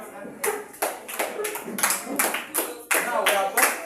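A group claps hands together in a quick, uneven round of applause in a mathematics class, sharp bursts following one another for a few seconds, with faint voices mixed in.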